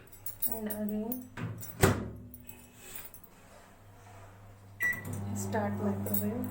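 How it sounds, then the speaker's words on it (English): A microwave oven cooking okra hums steadily with a low drone, broken midway by a door opening and closing with clicks and beeps before the hum resumes, close by and moderately loud. "start microwave"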